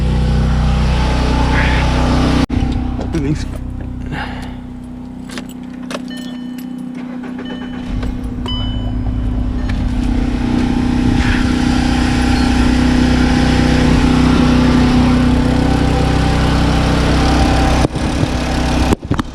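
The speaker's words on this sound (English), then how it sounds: "And now what I'm gonna do is start the car and make sure everything's fine." A 2009 Volkswagen Jetta 2.5L five-cylinder engine cranks and catches, then settles into a steady, loud idle close by, with keys jangling early on and a brief spoken remark over the running engine.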